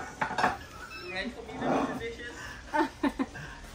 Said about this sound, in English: Rocky's doing all these dishes.